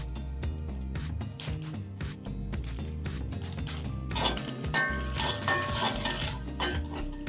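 Onions fry in a pan as curry leaves are added for Kerala masala pappadam, a steady close sizzle with repeated scraping and stirring clinks of a spoon against the pan, and the crackle brightens partway through.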